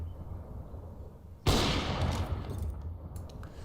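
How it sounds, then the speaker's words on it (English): A single gunshot fired through a wall in CS:GO, a sharp sudden crack about a second and a half in, followed by a decaying rumble and faint game sounds over quiet background. "just try and get it roughly head height and have a shot"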